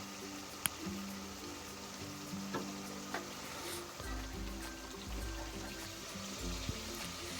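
Whole green chillies frying in ghee for shaljam palak gosht, a soft, low crackle and hiss with a few sharp pops and faint clinks, quiet and steady, without speech.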